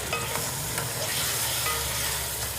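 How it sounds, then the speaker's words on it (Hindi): One kilogram of chicken frying in a pan over moderate heat for white biryani, a steady soft sizzle with faint stirring scrapes, close by and without talk. "चिकन को अब मैं इसमें फ्राई करूँगी।"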